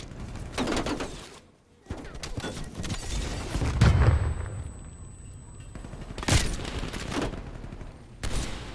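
Sniper rifle shots in a video game ring out as a few separate sharp cracks spaced several seconds apart, over a bed of steady in-game ambience.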